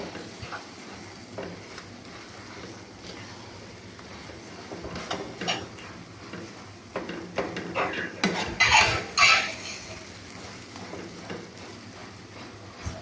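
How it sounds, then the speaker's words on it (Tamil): A spoon scrapes and clinks against a pan as sago halwa is stirred, producing soft, irregular metallic taps and scrapes that grow busier and louder toward the middle over a low background hiss. "நல்லா இந்த மாதிரி மிக்ஸ் பண்ணிக்கிட்டே இருங்க"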